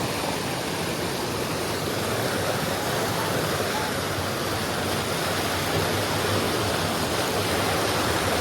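Strong flowing water rushes in a dense, unbroken roar at a Devgad spot in Konkan, loud and steady throughout like a torrent or small fall close by.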